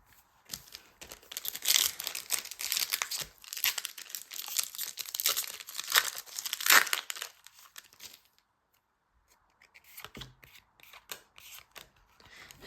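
Foil trading card booster packs being torn open one after another, with loud close crinkling and ripping bursts, a pause of near silence, then more brisk wrapper rustling.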